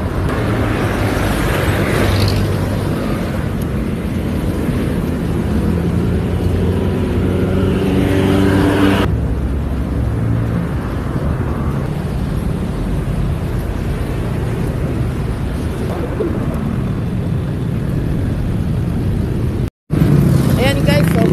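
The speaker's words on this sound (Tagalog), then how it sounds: "Sobrang traffic." Heavy road traffic rumbles steadily around a pedestrian walking outdoors, with engines passing and droning throughout while people talk over it at length.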